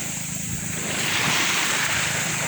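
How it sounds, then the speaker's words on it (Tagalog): Strong sea waves surge and wash with a loud, continuous roar that swells midway, mixed with wind buffeting the microphone, with no voices heard. "ang lakas ng alon"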